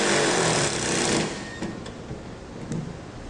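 A power tool whirs briefly and loudly while tightening a fastener on a Topline truck bed extender, then stops, followed by a few soft clicks and handling knocks.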